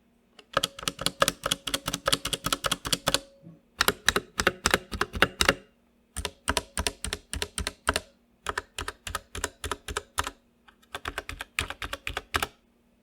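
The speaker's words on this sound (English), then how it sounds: "these don't seem to be factory lubed, and as a result, they have a lot of rattle" Keystrokes on an Ajazz K870T mechanical keyboard with its unlubricated stabilizers rattling, loud, close bursts of rapid clacking in four runs separated by short pauses, with no talking.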